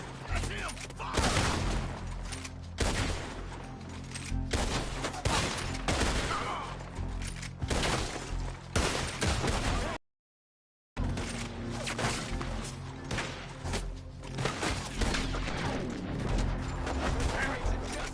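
Red Dead Redemption 2 gunfire during a story-mode raid on Valentine sheep: dense, continuous volleys of shots and crashing impacts fill the scene, briefly cutting to silence midway, with voices shouting over the barrage.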